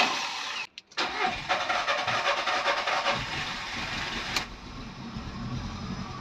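A Volkswagen Vento with a check engine fault cranks repeatedly, a brief quiet pause then a long rough grinding crank that struggles without catching, loud and close.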